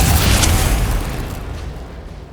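A Bombarda spell explosion in Hogwarts Legacy erupts as a single loud, full-bodied blast whose rumble fades gradually over a couple of seconds.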